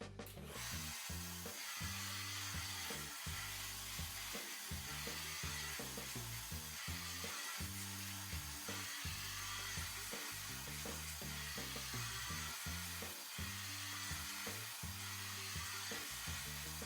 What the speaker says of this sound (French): Donc toujours mon sèche-cheveux pour tirer vers la racine, l'extérieur.